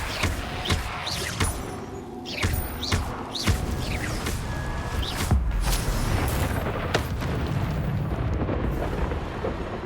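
The Incendio fire spell in Hogwarts Legacy is cast amid busy combat: several sharp magical bursts and whooshes, then a deep rumbling eruption of flame swelling partway through, loud and layered.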